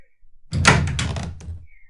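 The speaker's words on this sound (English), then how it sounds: "As soon as I opened the door to the hall" A door to a hall opens in the Seduce Me otome video game, a short close thunk followed by a rattling, scraping swing that fades after about a second, with no voices.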